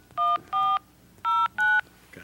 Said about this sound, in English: Beginning with the area code, please enter your 10-digit phone number.